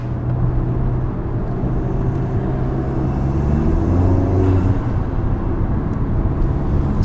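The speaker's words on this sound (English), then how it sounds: "Let's go ahead and bring her down, take a test drive, and see how it does." An Audi A3 with a newly fitted APR front sway bar on a test drive, its engine droning steadily from inside the cabin as the pitch shifts gently, over a constant road rumble.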